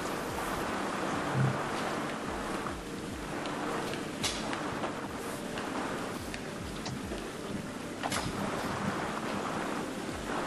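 Water rushes and flows continuously in the puzzle-platformer game Vessel, a dense, steady wash of noise with small splashy surges throughout and no voices.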